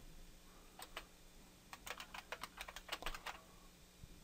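Typing of a command on a computer keyboard, a quiet burst of a dozen or so quick, close key clicks in an uneven rhythm with short gaps, no talk.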